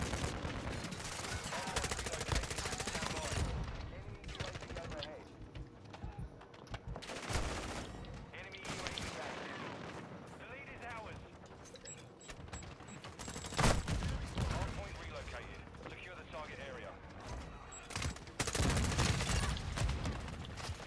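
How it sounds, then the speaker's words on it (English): Gunfire from a shotgun loaded with fire rounds in a Modern Warfare II Hardpoint match, loud repeated blasts scattered across a busy, dense firefight with other weapons and action noise throughout. "The shotgun with fire rounds."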